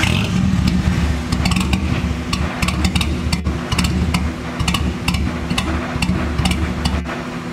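A barn-find Nissan Skyline R32 GTR engine runs with a loud, rough, steady rumble and mechanical clatter, with sharp ticking transients throughout and no clear talk.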